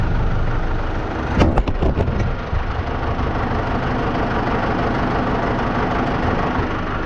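A tractor engine idles steadily at close range through the whole stretch, a constant low rumble with a few brief knocks and clatters early on; no voices.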